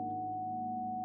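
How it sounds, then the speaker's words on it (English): A steady, unwavering 741 Hz sine tone hums quietly at a single mid pitch for about a second. "This is the sound of 741 Hertz"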